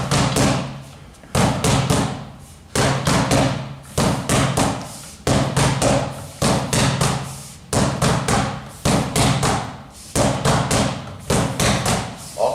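Rattan sticks clack together in a Sinawali stickwork drill, sharp repeated taps in quick groups of three with short pauses between sets, close and loud throughout.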